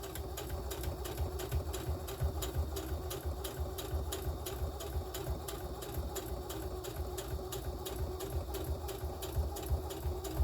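A sewing machine stitches a child's tote bag, its motor whirring with a fast, steady needle rhythm close by, running continuously without pause or talking.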